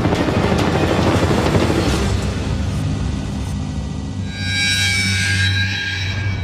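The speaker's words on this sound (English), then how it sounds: "That is a military helicopter. In fact, it's a Black Hawk." A Black Hawk military helicopter flies close and loud, its rotor chop throbbing steadily throughout while the engine whine rises toward the end, with no talk over it.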